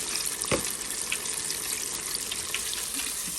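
Continuous bubbling sizzle of chicken tenders deep frying in hot oil, close and steady, with a brief clunk near the start.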